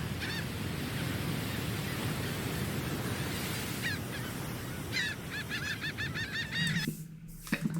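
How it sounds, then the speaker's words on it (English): Geese honk in a repeated series of short calls over steady broadband background noise, clustering toward the end before a brief low thump. "I'll just let the birds have their moment, okay? Give the birds their moment."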